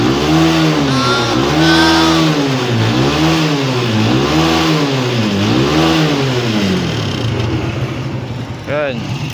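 A Kawasaki Barako motorcycle engine, smoky and burning oil, runs loud and close with repeated rhythmic revving swells and a steady throbbing exhaust beat, ending in a brief higher whine.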